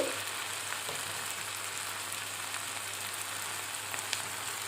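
Okra and tomato frying in a pan, a steady soft sizzle and crackle running continuously at low volume with no voices.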